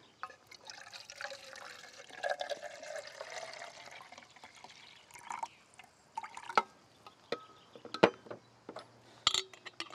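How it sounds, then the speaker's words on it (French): Lukewarm water, about 125 ml, poured into a thin whisked paste, a soft splashing pour and liquid gurgle followed by scattered drips and clinks, close and quiet with no talking. "À laquelle on va ajouter de l'eau. Donc 125 ml d'eau tiède."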